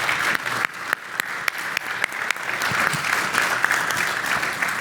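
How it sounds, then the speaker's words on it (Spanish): Sustained applause from an audience at a naval industry congress panel session, dense and steady for several seconds with a few sharper claps standing out. "quiero que le brindemos un gran aplauso a nuestros panelistas por el esfuerzo que han realizado"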